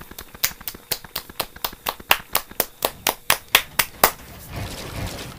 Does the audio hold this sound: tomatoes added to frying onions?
no